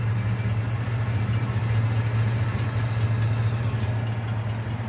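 A 1979 Lincoln Town Car engine idling with a faulty choke heater connection: a steady, smooth low rumble with an even hum, close and continuous throughout with no revving.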